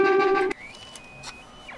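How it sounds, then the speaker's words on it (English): Solar-cell-powered oscillator giving thin electronic tones that glide and warble in pitch and loudness, faint and wavering after a louder buzzy burst at the start, with no speech. "what you're hearing is just a solar cell being used as a voltage source for an oscillator"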